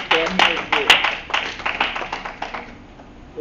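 A church congregation claps in uneven bursts, with sharp hand claps thinning out over a few seconds, while voices call out over them.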